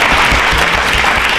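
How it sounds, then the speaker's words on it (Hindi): Dense, loud audience applause rewarding a correct answer at a Rajasthan state election quiz show, a brief continuous burst with no talk. "तालियां जोरों से बजाइए इनके लिए"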